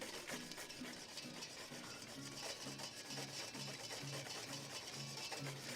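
Caesar salad dressing being whisked as oil is worked into the emulsion, a quick steady rhythmic scraping and clicking of a whisk in a bowl, close and fairly faint.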